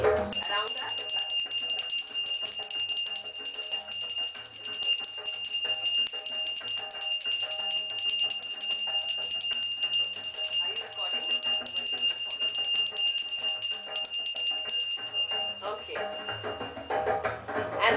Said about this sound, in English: first we will be just ringing the bell to dispel the negativity